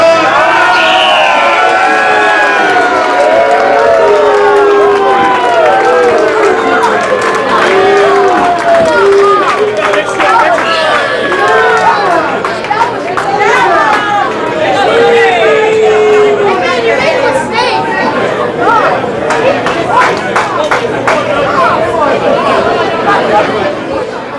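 Boxing arena crowd at a 2002 fight night reacting to an unpopular decision: a continuous loud roar of voices, whistles and jeering shouts fills the whole stretch without letup.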